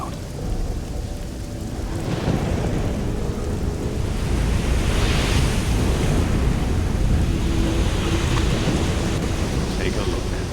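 Storm at sea in the video game Risen 2: Dark Waters, with steady heavy rain and rolling surf filling the whole clip, a low rumble of thunder building in the background and no talking.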